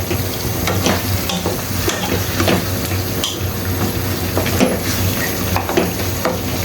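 Goat meat sautéing with spices in a pan in a rural-style kitchen, a loud continuous sizzle with scattered spoon scrapes and stirring knocks throughout.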